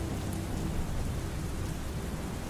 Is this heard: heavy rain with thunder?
yes